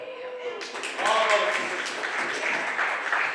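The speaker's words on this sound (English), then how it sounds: "Come on, you clap for that." Comedy club audience applauding at a stand-up show, clapping swelling after a spoken line and continuing steadily, fairly close and moderately loud.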